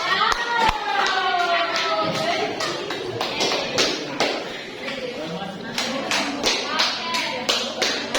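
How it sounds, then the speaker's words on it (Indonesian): Classroom applause from schoolchildren, quick sharp claps at close range with children's voices and chatter mixed in throughout. "bisa apresiasi temannya tepuk tangan"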